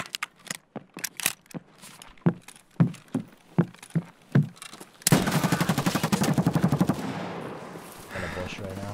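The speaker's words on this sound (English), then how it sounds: "I just shot this dude in the head twice." A competitive shooter video game: talk comes first over faint sounds, then a loud, sustained run of rapid automatic gunshots starts midway and fades into a softer tail.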